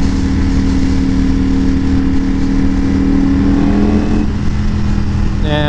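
A carbon fiber Ducati V4S liter-class motorcycle engine runs loud and steady throughout, a continuous close droning hum with a rising pitch shift near the end, no voices over it.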